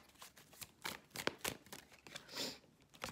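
Oracle cards shuffled and drawn by hand during a reading, a series of short crisp riffles and slaps with a brighter swish near the end, close and fairly quiet with no talking.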